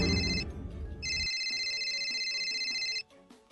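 A cellphone rings with a bright, steady electronic tone that runs for about two seconds after a brief noisy burst, then cuts off to quiet room sound.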